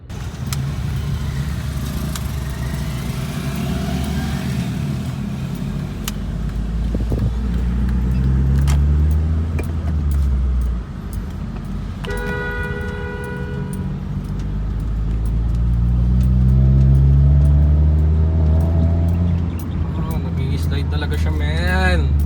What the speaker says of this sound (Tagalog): Grabe ang traffic, man.